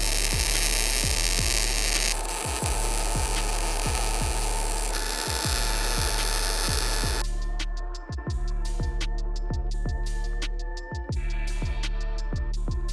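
Steel rear bumper hitch supports for a fourth-generation 4Runner are welded, giving a loud continuous electric buzz and crackle with periodic brief breaks as the arc stops and restarts.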